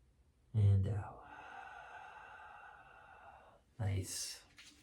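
Deep breath work exhale during a movement class: two strong breathy sighs, the first drawn out into a long airy, tonal release, the second shorter and rougher, close and alone.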